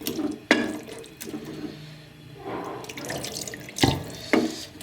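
Water runs steadily from a tap into a pot of potatoes, with splashing bursts and a couple of sharp clanks of metal, close by, no talking.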